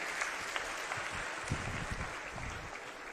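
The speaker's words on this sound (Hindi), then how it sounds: "एक बार ताली बजा के हमारी टीम का हौसला बढ़ा दे।" Crowd applause at a political rally in Haryana, a dense, steady wash of many hands clapping together for about three seconds with no voices over it.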